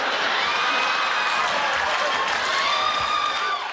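Audience applause for a Bernie Mac stand-up comedy set: a dense, steady wash of clapping from a large crowd, loud and continuous for the whole stretch, with faint cheers rising through it.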